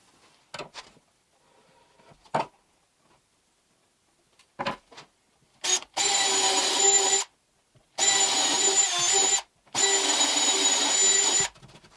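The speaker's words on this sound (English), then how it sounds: "I'll pre-drill, glue, and screw around the sides." Power drill pre-drilling into wood while building a rolling outfeed table, with a few short taps and clicks followed by three bursts of whirring drill, each lasting about one to two seconds.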